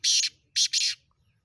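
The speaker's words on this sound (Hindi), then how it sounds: "ही काड़ो तितर आ जेको तव्हांखे ॾेखारे रहियो आहियां" A black francolin calls nearby in a short, loud, harsh burst of three clipped, grating notes, the first alone and the last two close together, with quiet around them.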